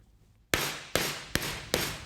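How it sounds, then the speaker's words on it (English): A mallet strikes sheet metal laid over a sandbag in four sharp, loud blows at a steady rhythm, each impact ringing briefly before decaying, close up and with no voices. "The metal is placed over the sandbag and hit repeatedly with the mallet until you have the shape you want."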